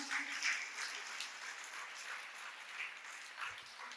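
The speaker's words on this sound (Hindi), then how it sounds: "और एक बार हमारी भीलवाड़ा की कमेटी के लिए भी तालियां बजा दें।" Faint, distant applause rolls through a hall at a religious discourse gathering in Bhilwara, a soft, even crowd patter lasting a few seconds with no talking over it.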